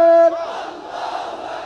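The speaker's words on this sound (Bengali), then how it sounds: "মার্চ ফর গাজা নামের এই কর্মসূচিতে আসা প্রত্যেকের কণ্ঠে ছিল ফ্রি ফ্রি প্যালেস্টাইন স্লোগান" Huge crowd at a March for Gaza rally chanting a Free Palestine slogan, a loud unison shout that breaks into a broad roar of many voices.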